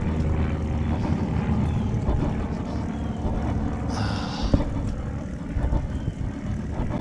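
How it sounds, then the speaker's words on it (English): Military jets circling an airfield doing touch-and-goes, heard outdoors during a winter recumbent bike ride: a steady distant engine roar that rises and falls as the aircraft pass, with no talk. "Been watching 3 military jets fly around doing touch and goes."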